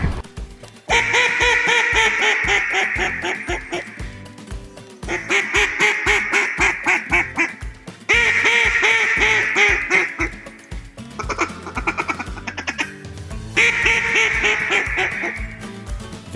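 Wooden Edison duck call imitating a hen mallard in the big woods of Arkansas, sounding as loud, close runs of raspy quacks in several repeated sequences, each descending series ringing out alone with brief pauses between.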